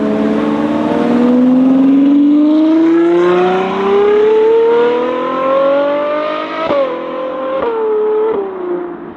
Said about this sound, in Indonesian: Apalagi dengan suara mesinnya yang surgawi.